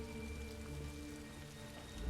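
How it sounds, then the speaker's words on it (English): Steady rain falls in The Elder Scrolls Online, a dense, even patter of drops that fills the whole two seconds, with a faint sustained tonal hum of game ambience underneath. "I could do without this damnable rain. It's been storming since we arrived, and it shows no sign of letting up."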